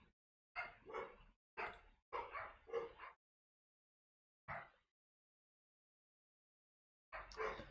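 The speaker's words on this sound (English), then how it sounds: "My dogs are very mad for some reason." Several dogs bark in bursts in a quiet indoor room, a cluster of sharp barks early on, then a single bark after a pause and another short volley at the end, fairly faint and with no talking.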